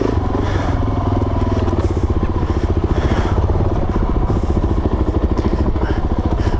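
A Suzuki DRZ400 dual sport motorcycle on street tires chugs steadily along a single track trail, its engine loud and close with a rapid throbbing pulse and clattering over rough ground throughout.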